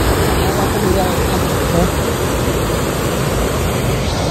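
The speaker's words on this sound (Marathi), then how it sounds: "धबधबा." A monsoon waterfall near a riverside fishing spot, heard as a loud, dense, continuous roar of rushing water that stays steady throughout with no pauses.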